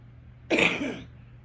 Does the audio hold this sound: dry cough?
yes